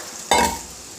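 Onion and cabbage being stirred in a hot kadhai, a sudden burst of sizzling frying as the spoon moves through, then settling into a softer steady crackle, close and alone.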